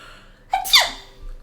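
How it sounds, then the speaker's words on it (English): A single sudden sneeze, a sharp burst of breath that quickly tails off, with nobody talking. "Oh gosh, I might need to sneeze."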